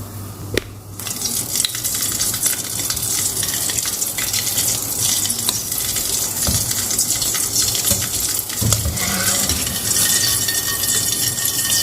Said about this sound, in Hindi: उसको मैं निकाल के शीरे के अंदर डालती जाऊँगी